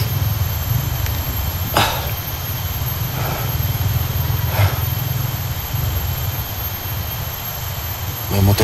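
A motorcycle engine drones nearby in a steady low rumble, with a few faint clatters over the hum and no voices.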